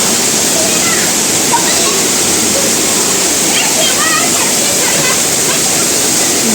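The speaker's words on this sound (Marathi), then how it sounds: "सुंदर असा धबधबा निसर्गाच्या सानिध्यात सोमतीर्थ धबधबा" Somtirth waterfall at Nivendi in Konkan roars loudly and steadily, a dense unbroken rush of falling water, with faint voices mixed into the background.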